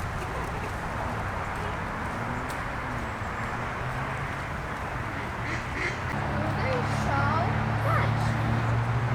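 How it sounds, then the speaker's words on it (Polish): Ducks quack intermittently amid a busy outdoor wash of noise in a Warsaw park at Służew nad Dolinką, Mokotów, with a dog and other birds faintly mixed in. "A tu są kaczki"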